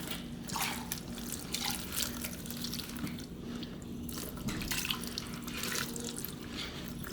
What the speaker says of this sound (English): I'm washing the throttle body with the help of brush.